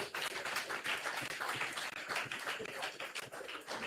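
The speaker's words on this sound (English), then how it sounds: "Please give them a round of applause." An audience at a town hall meeting on hurricane recovery gives a sustained round of applause, dense and steady, filling the room with continuous clapping.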